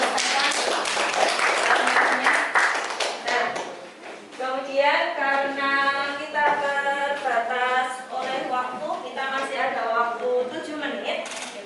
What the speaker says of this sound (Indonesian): beri tepuk tangan untuk kelompok 2 yang sudah menyelesaikan aluminiumnya